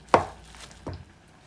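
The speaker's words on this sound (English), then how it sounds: "I'll mix this up and go to the stove to start frying" Two sharp knocks of a utensil against a bowl, about a second apart, as celeriac and carrot latke batter is stirred by hand, with the second hit softer and the kitchen otherwise quiet.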